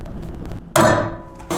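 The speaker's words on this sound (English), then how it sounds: "In this case, we'll use blind rivets." A blind rivet is set with a hand tool, giving a sharp metallic snap followed by a fading ring, preceded by quieter handling clicks and a second brief knock at the end, close and fairly loud.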